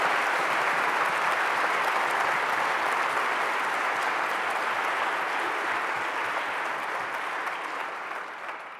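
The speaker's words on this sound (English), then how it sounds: "Could we have a round of applause?" A large church audience at an evening gathering breaks into sustained applause, a dense, even roar of many hands clapping that holds steady for several seconds before slowly fading at the end.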